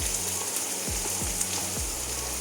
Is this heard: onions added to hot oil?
yes